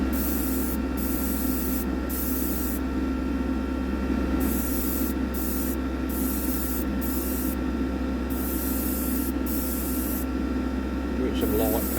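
Short bursts of spray from a can laying light coats of paint onto a diecast model car, repeated hissy puffs separated by brief pauses over a steady background hum.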